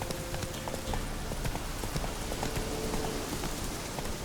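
Horse hooves galloping in The Witcher 3: Wild Hunt, a rapid, even clatter of hoofbeats against a dense, rain-like wash of ambient noise, steady throughout.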